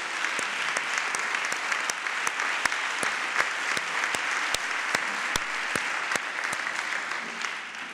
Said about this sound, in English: Could I ask the team from Miami-Dade to please stand and give them a round of applause?